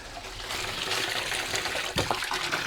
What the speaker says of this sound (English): Got the water going now, filling up the barrel.